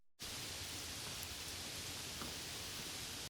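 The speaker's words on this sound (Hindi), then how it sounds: "तेज बारिश हो रही थी।" Heavy rain pours down as a dense, even wash of hiss that starts abruptly and holds steady throughout, with no voices or other sounds standing out.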